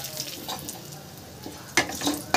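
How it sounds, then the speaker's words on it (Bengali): Cumin seeds and a dried red chilli tempering in hot oil, a steady close crackling sizzle with a few sharper spits and clatters of a utensil toward the end, no voices. "তেল দেখুন গরম হয়ে গেছে, দিয়ে দিলাম জিরে আর একটা শুকনো লঙ্কা"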